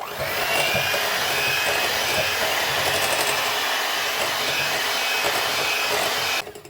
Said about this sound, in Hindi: थोड़ी थोड़ी करके हम इसमें डालेंगे और साथ ही हम इसको बीट करते जाएंगे।